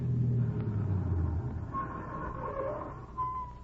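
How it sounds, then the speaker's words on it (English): Car approaching in an old-time radio drama of The Saint, a low engine rumble rising and steady for a few seconds, recorded with vintage muffled broadcast quality and no talk over it. "That car. Yes, I heard it."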